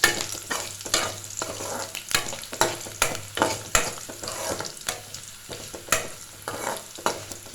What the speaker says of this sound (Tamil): வெங்காயம் லைட்டாக வதங்கட்டும்.